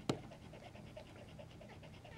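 Young white puppies panting softly and rhythmically close by after a brief sharp knock, the quick breaths steady and faint throughout.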